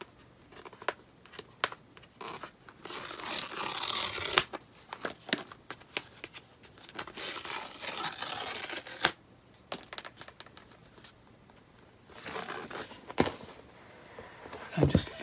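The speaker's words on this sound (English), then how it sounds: "Got the 2 little strips on the back we're going to just peel off." Protective strips peeling off the back of an Apple iPad Magic Keyboard box give close, dry crinkling and tearing rustles in irregular bursts, with small handling taps and pauses between pulls.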